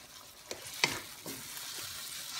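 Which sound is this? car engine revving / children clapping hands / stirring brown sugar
stirring brown sugar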